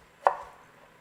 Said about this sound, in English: we're gonna cut them up into little strips